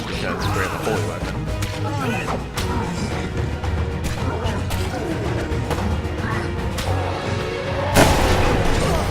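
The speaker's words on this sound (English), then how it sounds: "I thought I could interrupt his attack there with the force explosion" A force explosion in the fantasy combat game Hand of Fate lands among rapid combat impacts, booms and crashes, ending in a sharp, bright blast near the close, over continuous battle noise.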